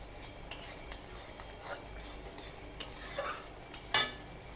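Tomato and date chutney stirred in a pan, a spoon scraping and clinking against the metal in irregular strokes over a soft simmer, with no talk.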